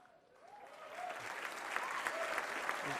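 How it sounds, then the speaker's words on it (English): Applause from guests at an Army birthday dinner greets a congressman from Louisiana, starting faint and swelling within the first second into steady, moderately loud clapping across the room. "You're supposed to clap for Congress. Go ahead, clap now."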